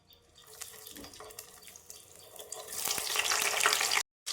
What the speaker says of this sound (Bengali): তেল গরম হয়ে গেছে, এখন এটাতে হালকা নুন দিয়ে এই ড্রাই ফিশগুলোকে একটা একটা করে ফ্রাই করে নেব।